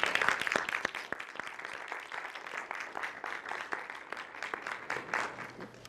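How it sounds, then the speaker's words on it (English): Book festival audience applauding to welcome a keynote speaker, many hands clapping in a lively, sustained burst that stays moderately loud, with distinct sharp claps near the front. "let's welcome her with a hand of applause as she comes forward at this moment."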